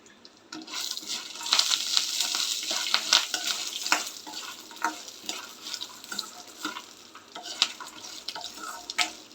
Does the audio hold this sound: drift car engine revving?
no